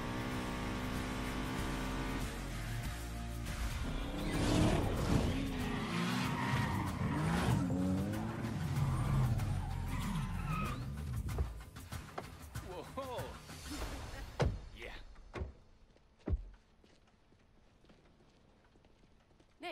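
Tires screech and skid as a car spins donuts in Need for Speed Payback, with engine roar and squealing sweeps that die out after about fifteen seconds, leaving scattered faint knocks and near silence.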